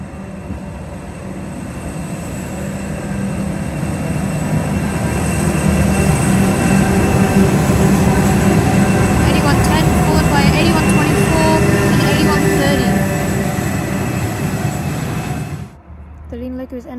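A train led by locomotive NR 110 roars past close by, a loud, sustained rumble with metallic wheel ringing that builds and holds, then cuts off abruptly near the end.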